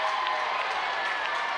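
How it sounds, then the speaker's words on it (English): A softball crowd in Athens jeers with a mock Bronx cheer, a steady wash of noise that holds evenly throughout with no voices on top. "A little Bronx cheer here in Athens."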